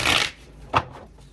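Tarot cards being shuffled for a reading: a loud, close riffle of cards, followed after a short pause by a single brief card snap, with no talking.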